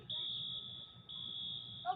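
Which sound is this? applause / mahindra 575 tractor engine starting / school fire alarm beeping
school fire alarm beeping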